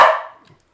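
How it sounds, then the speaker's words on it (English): A single sharp bark from a small puppy, close and loud, fading quickly into near silence. "my little puppy's very adamant that she wants to bark here"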